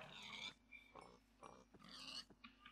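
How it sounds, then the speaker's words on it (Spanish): A pig in Minecraft gives several short, quiet oinks and grunts, spaced unevenly and heard alone. "El cerdo más bellaco del universo."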